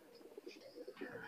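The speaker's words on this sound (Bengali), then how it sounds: "ভিউয়ার্স এইখানে দুইটা কবুতর দেখেন" Pakistani Teddy pigeons coo softly in a few low, rolling calls, faint and close together against a quiet background.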